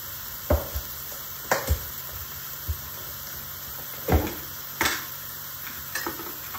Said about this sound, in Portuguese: Vou refogar aqui um pouco